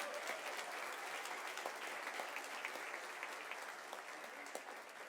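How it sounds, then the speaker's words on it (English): Audience applause at a college signing ceremony for a track and field athlete, a steady, dense wash of many hands clapping that holds throughout and eases slightly toward the end, with no talking over it. "A big round of applause."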